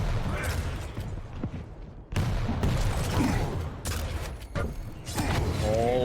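Heavy machine gun fire in a competitive video game fight, sustained bursts of dense rattling shots interrupted by short gaps, loud and close under game effects, with some voices in the mix.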